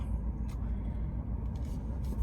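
Steady low engine and road rumble from a car being driven, with the cabin hum continuous and close and no talk over it.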